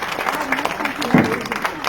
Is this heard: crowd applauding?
yes